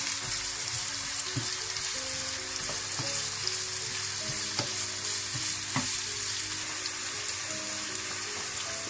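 Thinly sliced long carrots and other vegetables stir-frying in a hot pan for vegetarian Hakka noodles, a steady loud sizzle with clinks and scrapes of a spatula tossing the food, no talking.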